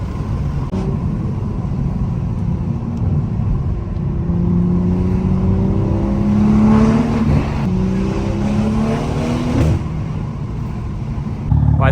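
A tuned BMW M240i engine runs close by with a throaty intake roar, pitch climbing steadily as it accelerates, then settling back down.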